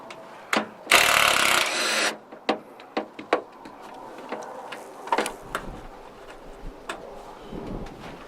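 A 5/16 socket loosens fender bolts on a 1986 notchback, starting with a short loud ratcheting burst followed by scattered metallic clicks and taps at close range.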